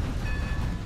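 Steady low rumble of a train rolling past in the video game Red Dead Redemption 2, loud and continuous with a faint high whine above it, no voices.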